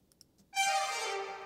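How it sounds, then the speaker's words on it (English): A single sustained trumpet sample note used as a one-beat fill in a beat, entering after a few faint clicks and holding bright and steady before fading slightly. "And the trumpet sound."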